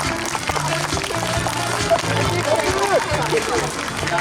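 An audience applauds at an elementary and middle school club football tournament in Incheon, with sustained, fairly loud clapping spread across the moment, mixed with crowd murmur and background music.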